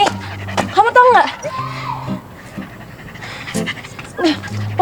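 Panting dog with high, wavering whimpers, loud and close, mixed with people talking in a playful musical scene.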